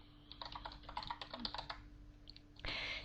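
Keys clatter on a computer keyboard as a command is typed, a quick run of light, close taps in bursts, then a pause and a single louder keystroke like Enter.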